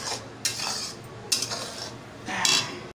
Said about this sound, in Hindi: सारे मसाले को अच्छी तरह भून लेंगे